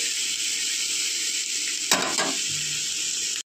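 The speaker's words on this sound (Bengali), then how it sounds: "চিনিটা মেল্ট হয়ে গেলে আবার এই মিক্স ভেজটা ভাজা হয়ে যাবে" Mixed vegetables frying with melting sugar in a pan give a steady, close sizzle throughout, with a brief burst of stirring or scraping midway and no talking.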